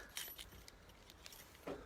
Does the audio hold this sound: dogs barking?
no